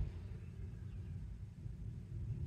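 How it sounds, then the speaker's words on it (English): A low, steady rumble of distant thunder rolls on through the whole stretch, broad and muffled, with no voices present. "rain and thunder ambiance there at the end"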